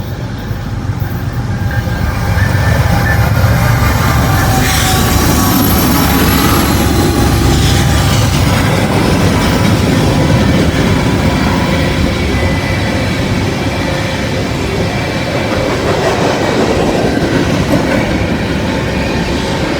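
A Norfolk Southern mixed manifest freight train rolls past close by, with a loud, steady rumble and rhythmic clickety-clack of wagons that continue without a break.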